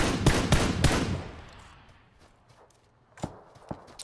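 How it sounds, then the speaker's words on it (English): Several sharp gunshots from a cheating player in PUBG crack in quick succession at the start, then fade into a quiet stretch broken by two more isolated, fainter shots near the end. "Now he just keeps shooting at, in my general direction."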